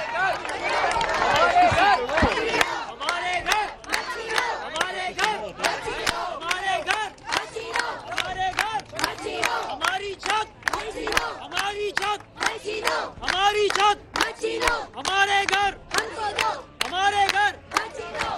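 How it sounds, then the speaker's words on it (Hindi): A morning TV studio audience protesting over a housing case chants in unison while clapping in a steady rhythm, loud and close for about eighteen seconds, the voices rising and falling together in repeated bursts. "तालियां बजानी है और सिर्फ इतना कहना है, हमारे घर वापस करो"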